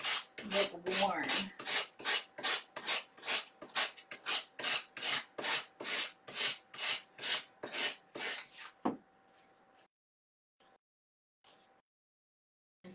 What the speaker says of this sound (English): I like the way the sanding makes the edges of the heart or the paper look worn.